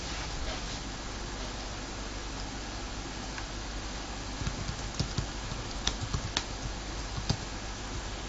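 An SQL query is typed on a computer keyboard as faint, scattered key clicks over a steady hiss of background noise, growing a little more frequent toward the end.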